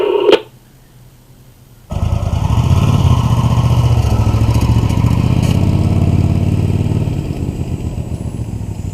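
A stationary motorcycle fitted with an amateur radio setup idles with a steady, close, rhythmic engine putter that starts abruptly after a short quiet opening and continues evenly, with no speech.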